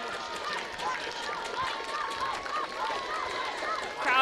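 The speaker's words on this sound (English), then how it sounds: "Crowd is loud, the energy is here." A loud crowd cheers and roars at an ultimate frisbee game in Austin, Texas, a steady wall of voices and whoops with announcers talking over it.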